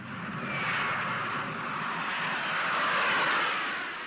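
Steady, loud jet roar of an Antonov 124 transport aircraft, a broad continuous rumble that swells slightly and holds without breaks, heard alone with no voices.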